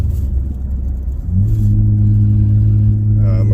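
A 2024 Nissan Frontier with a custom equal-length exhaust revs up to about 5,000 RPM, a deep, loud, droning rumble heard from inside the cab, rising in pitch and holding steady.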